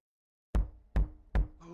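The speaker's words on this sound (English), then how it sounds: "Who's banging at the door?" Three heavy, booming knocks on a door in a 3D video game, loud and close after a moment of silence, evenly spaced with a faint tonal sound entering at the end.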